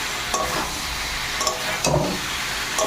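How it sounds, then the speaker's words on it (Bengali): Beans and fried potatoes sizzling in hot oil and spices, a steady loud frying hiss with periodic scraping stirs from a utensil, no talking. "এবার আমি এর মধ্যে দিয়ে দেবো শিম আর আলু"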